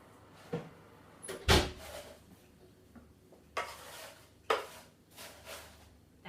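Home oven door opened to check baking potato wedges: a loud clunk and creak followed by softer knocks and shuffles, close by and without speech.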